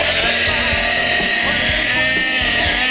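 A food processor grinds chickpeas into hummus, its motor running as a loud, steady whir with a continuous gritty buzz and no pauses.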